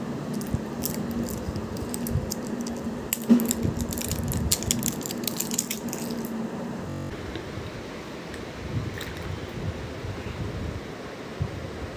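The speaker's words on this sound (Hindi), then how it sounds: "बोतल की सील पैक खोल लूँ।" Breaking the seal on a packed water bottle outdoors gives a run of small crackles and plastic clicks over several seconds. Wind noise rustles behind it, and no one speaks.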